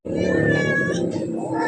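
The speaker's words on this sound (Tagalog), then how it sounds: "Ayoko naman yung maraming pusa rito eh." A cat meows loudly and continuously up close indoors, a drawn-out, wavering call with a slight rough caterwauling edge.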